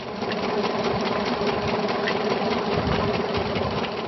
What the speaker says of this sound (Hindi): खेत में डीजल इंजन पंप सेट से सिंचाई हो रही है